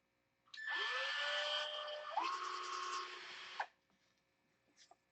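A drill bores an eighth-inch hole for blind nuts, spinning up with a rising whine, holding a steady high buzz for about three seconds, then stopping abruptly, heard close and alone.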